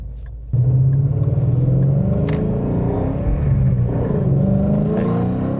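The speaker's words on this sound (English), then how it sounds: "This has an MBRP race exhaust, which sounds great" A Coyote V8 Mustang with an MBRP race exhaust pulls hard from quiet, its engine rising into a loud, sustained, deep rumble that holds steady for several seconds.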